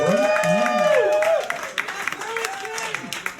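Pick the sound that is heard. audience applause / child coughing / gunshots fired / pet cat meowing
audience applause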